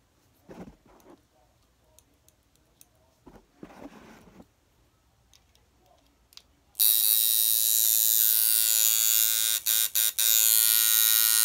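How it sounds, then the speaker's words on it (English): Soft handling noises, then a coil tattoo machine set up as a shader switches on with a loud, steady electric buzz, briefly cutting out twice before running on. "Alright, so that's the shader. Sounds great."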